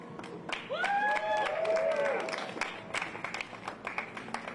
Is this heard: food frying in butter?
no